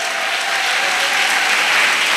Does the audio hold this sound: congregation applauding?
yes